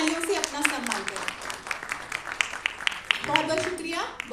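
Applause from an audience at a multilingual mushaira poetry gathering, scattered claps running throughout with a voice and music-like tones over it, moderately loud.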